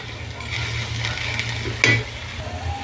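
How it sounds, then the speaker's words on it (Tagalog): Shrimp, crayfish and prawns sautéing in a pan give a steady, close hiss of sizzling, with a brief sharper scrape or clink of the stirring utensil partway through and no talk. "Yan, gisa-gisa muna natin."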